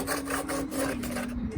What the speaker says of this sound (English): I'm just gonna sand it down now, as good as we can get it anyways.